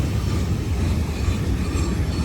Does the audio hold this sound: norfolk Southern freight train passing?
yes